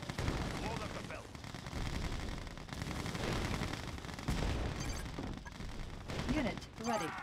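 Units in the strategy game Red Alert 2 trade dense gunfire, a continuous clatter of overlapping shots and bursts mixed with game voice lines.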